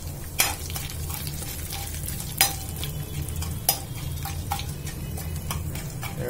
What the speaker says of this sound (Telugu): ఎండుమిరపకాయలు వేగిపోయాయండి